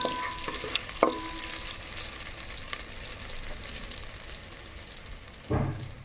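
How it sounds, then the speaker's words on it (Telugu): Butter melting and sizzling in a large pot while cooking Andhra-style Bombay ravva ganji, a steady soft fry with a couple of brief clatters of utensils, no talking. "బటర్ అయితే కరుగుతుందండి"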